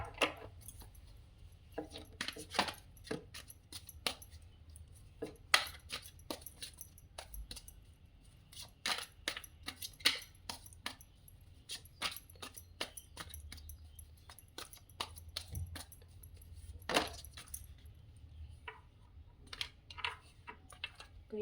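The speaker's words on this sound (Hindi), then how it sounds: "कई कई कार्ड गिर जा रहे हैं" Tarot cards slip and drop during shuffling, giving a rapid, irregular run of sharp, light clicks and slaps up close, with brief quiet gaps between bursts and no talking.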